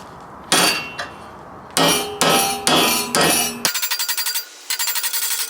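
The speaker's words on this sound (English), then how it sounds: "And we'll hammer this over." Aluminum upper radiator support for a 1973-87 Chevy C10 being hammered over: sharp metallic strikes in uneven groups, then a rapid run of lighter ringing taps, loud and close with no talking.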